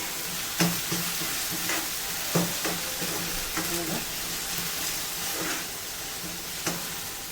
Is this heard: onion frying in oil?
yes